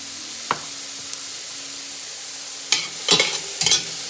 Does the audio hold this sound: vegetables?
yes